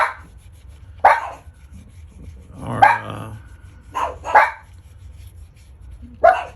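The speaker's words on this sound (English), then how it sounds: "If my dogs start barking," Several household dogs barking indoors in a workshop during a leather sheath dyeing session: four or five sharp, separated barks, some doubled, moderately close over a quiet low background hum.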